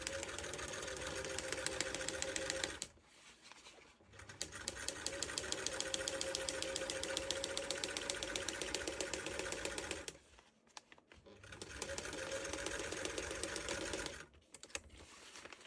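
Sewing machine stitching slippery hovercraft skirt material, running in three long continuous bursts of rapid mechanical chatter separated by short pauses, fairly close and steady with no talking.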